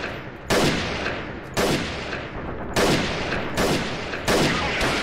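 M14 rifle fire in a guerrilla warfare game: four loud, sharp shots spaced roughly one to one and a half seconds apart, each with a booming decay into a steady background rumble.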